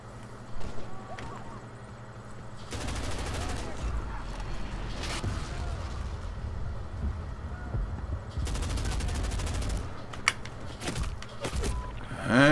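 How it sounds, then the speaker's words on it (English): Gunfire in the video game Medal of Honor 2010 comes as rapid automatic bursts, two dense volleys a few seconds apart with scattered single shots, fairly close, over a steady background of game noise. "We're getting shot."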